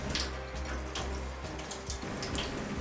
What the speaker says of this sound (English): Rinse the shrimps under running water.